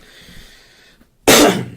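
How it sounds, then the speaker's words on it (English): After a quiet moment, a single sharp, loud throat-clearing burst sounds close up. "I had to clear my throat"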